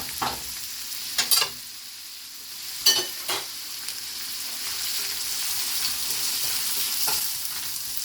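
Onions hiss and sizzle in heated olive oil, a bright steady frying sound broken by a few sharp spatula scrapes and stirs.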